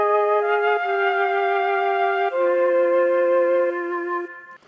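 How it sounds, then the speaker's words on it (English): Two flute lines play together, each holding steady sustained notes and shifting pitch at different moments, before both fade out near the end. "if we listen to those 2 flutes, you can kind of hear how they play 2 different melodies"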